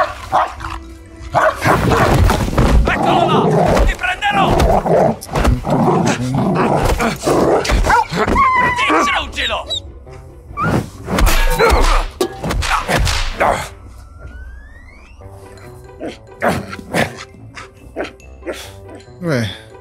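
A dog barks repeatedly in short, loud bursts during a gaming livestream, mixed with animated, overlapping talk and laughter; the barking thins out toward the end.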